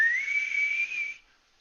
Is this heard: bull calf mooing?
no